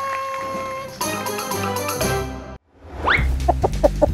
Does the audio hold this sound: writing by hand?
no